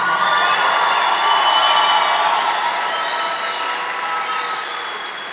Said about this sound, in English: Let's get one more round of applause for these amazing individuals.